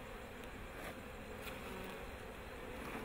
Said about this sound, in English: We got some bees here that are kind of interested, so I might get stung a little bit.